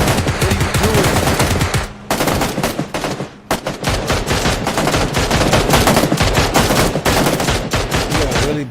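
Sustained, loud automatic gunfire from the battle royale game PUBG, rapid rhythmic shots almost without pause, with a brief break partway through and little talk.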